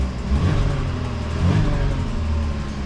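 A Chevrolet Sonic engine, running rich, revs with throttle input, rising and falling in two swells over a steady close engine rumble, with no talking.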